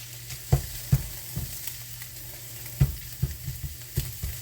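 Scrambled eggs sizzle in a hot pan, a steady close frying hiss broken by irregular scrapes and taps of stirring.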